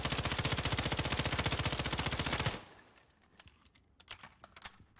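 A rifle in Call of Duty: Warzone fires a long, rapid full-auto burst of evenly spaced loud shots for about two and a half seconds, then stops, leaving faint clicks and scattered small taps.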